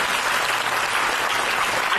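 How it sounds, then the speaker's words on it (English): An audience at a CSIR IMTECH valedictory function applauds, a dense, even burst of clapping from many hands held at steady volume throughout, with no talking. "At least CSIO persons can clap."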